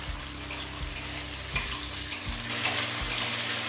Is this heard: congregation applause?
no